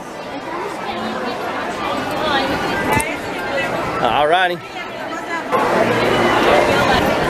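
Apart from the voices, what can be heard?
crowd chatter at a Disney park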